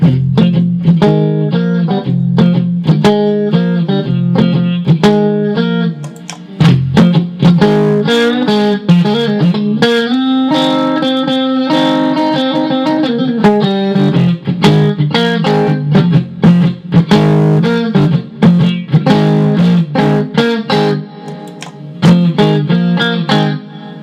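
An electric guitar played through a FlyRig 5 plexi with the hot boost engaged, distorted riffs and sustained chords ringing loud and close, alone without voices.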